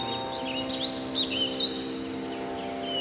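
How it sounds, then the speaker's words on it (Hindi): Birds chirping in a garden, with several short, light calls and twittering notes scattered over a steady low hum, moderately close and fairly soft. "पंछियों की चहचहाट सुनाई दे रही है।"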